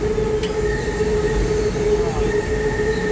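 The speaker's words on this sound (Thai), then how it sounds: "รถไฟฟ้ามหานคร ของกรุงเทพ" A Bangkok MRT metro train runs past with a continuous loud rumble, steady whining tones and faint wheel squeal, heard close by and without any talking.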